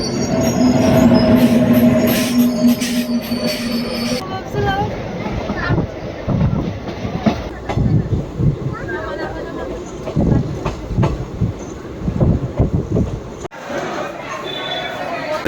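A passenger train in West Bengal runs along the tracks, its rumbling wheels, rhythmic clatter and occasional squeals heard from inside a carriage, while people talk in the background over the noise.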